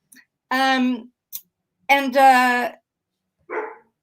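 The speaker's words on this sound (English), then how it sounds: "That was a bark" A dog gives a short bark, fairly close, right after stretches of people talking nearby.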